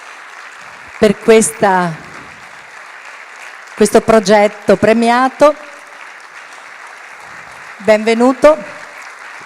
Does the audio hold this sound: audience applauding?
yes